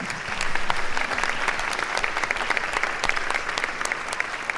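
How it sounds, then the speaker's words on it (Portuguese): A church congregation claps together during a worship service, a loud, steady wash of many hands continuing for several seconds without a break. "Pode bater palmas."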